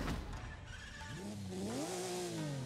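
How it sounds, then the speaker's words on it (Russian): A car engine in the Forza Horizon 5 racing game growls and revs, pitch rising and dipping in a smooth sweep over a steady, loud drone with no talking. "Давайте послушаем, как рычит мотор."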